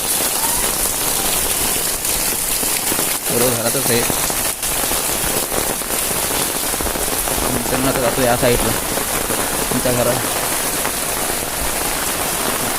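Night rain falls steadily on surfaces in Ratnagiri, a dense, continuous patter close by, while someone talks intermittently over it.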